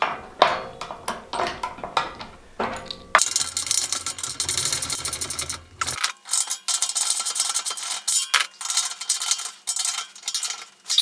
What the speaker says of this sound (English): I can finish tightening these wheels down.